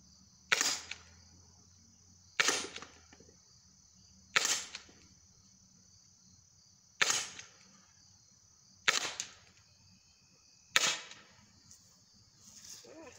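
Byrna HD launcher fired at a target, six sharp snapping shots spaced about two seconds apart, each with a short decay, close and clear against a quiet background with no talking.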